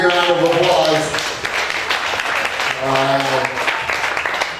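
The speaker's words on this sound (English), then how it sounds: "Give her a big round of applause." Audience applause at a boxing press conference, a short burst of clapping heard under someone talking through a microphone.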